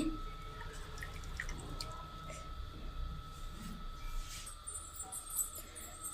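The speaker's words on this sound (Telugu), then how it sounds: "ఈ విధంగా చుక్క వాటర్ లేకుండా గట్టిగా పిండుకోవాలి" Curdled milk wrapped in a cloth is wrung hard by hand, with liquid dripping out in a faint, irregular patter over a steady low hum and no voices.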